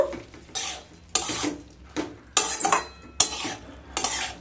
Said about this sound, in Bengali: এবার খুব ভালো মতো মিশিয়ে দেব